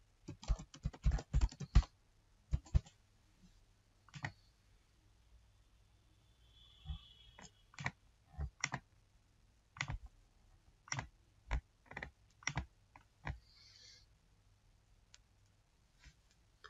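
Computer keys clack in short bursts as a name and password are typed, quiet, close taps in irregular clusters separated by pauses.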